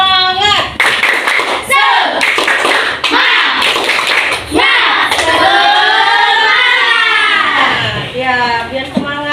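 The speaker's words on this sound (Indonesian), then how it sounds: "Coba tepuk semangat dulu." Children clap a quick rhythmic cheer together in a classroom, bursts of hand claps mixed with their chanting voices, loud and close, with brief pauses between phrases.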